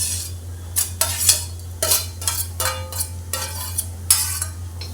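Roasted kantola (spiny gourd) is stir-fried in a pan, a spatula scraping and clinking against the metal in quick irregular strokes over a faint sizzle and a low steady hum.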